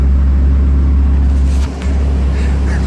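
A car engine drones loud and steady on a Mustang MD-150 chassis dynamometer, with a brief dip partway through before the heavy roar resumes, close and without talk.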